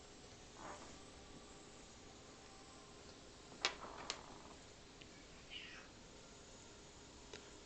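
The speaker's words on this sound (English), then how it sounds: "It sounds like my cats are having fun together." Pet cats playing together indoors, a few faint scattered meows and chirps over a steady background hiss, distant and sporadic rather than continuous.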